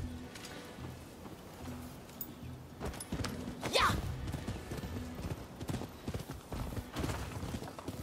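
Horse hooves clip-clop steadily in the Rise of the Ronin video game, a brisk rhythmic trotting that runs throughout alongside game ambience, with a brief whinny-like sweep near the middle and someone talking over it.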